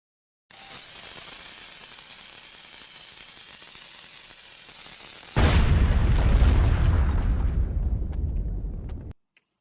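A cartoon bomb goes off after a long fizzing hiss, bursting into a loud, sustained, rumbling blast that fades out over several seconds, with a couple of faint pops near the end.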